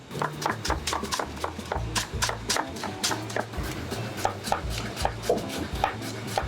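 Shallots and garlic are chopped for Balinese kampung fried rice, with a brisk, steady rhythm of knife strikes on a cutting board, close and alone, no talking.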